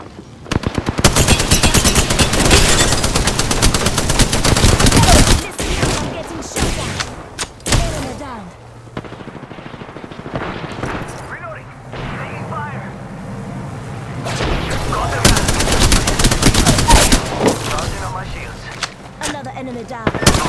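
Heavy automatic fire from Apex Legends rattles loud and close in long sustained bursts at the start and again near fifteen seconds, with quieter stretches between where a voice talks over the game sounds.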